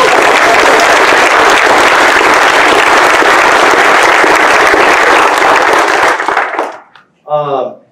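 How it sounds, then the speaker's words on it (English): A conference audience at Develop Denver 2019's opening ceremonies gives a loud, dense round of applause for the sponsors, sustained for about six seconds before fading out quickly, followed by a brief voice. "How about a round of applause for our sponsors?"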